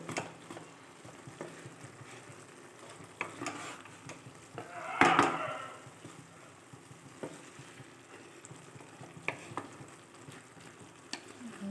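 Bottle gourd with salt and turmeric is stirred in a pan, giving a quiet sizzle with occasional utensil scrapes and one louder clattering burst midway. No voices are heard.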